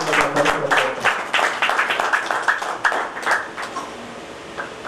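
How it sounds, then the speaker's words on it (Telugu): A crowd applauds with scattered, uneven claps that start strong and gradually thin out over a few seconds. "ఈ ఇందూర్ యువత స్వచ్ఛంద సేవా సంస్థ సాయి మరి వారి బృందానికి నేను గట్టి చప్పట్లతో ఒకసారి అభినందన చేస్తాను"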